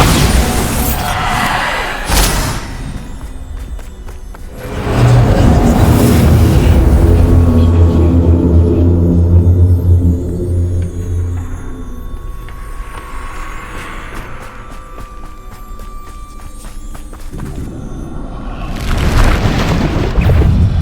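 Spell explosions from the Bombarda spell in the Hogwarts Legacy video game: a few heavy, loud booms with deep rumbling tails, spaced out among quieter game sounds.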